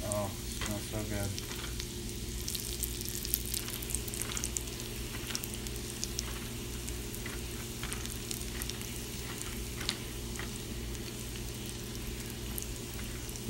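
Snapper fillets fry in a pan of butter and oil with a steady, close crackling sizzle, punctuated by small pops and spits, with a brief voice at the start.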